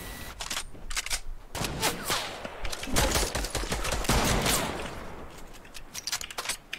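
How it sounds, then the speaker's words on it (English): Video game gunfire from an AK rifle among other shooters: clustered bursts of shots, some close and loud, others trailing off, ending in quieter rattling. "Wow, everyone is shooting at us."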